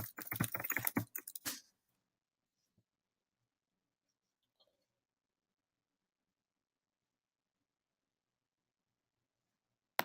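Quick keystrokes on a computer keyboard rattle out in a brief close burst, then give way to near silence for the rest of the stretch.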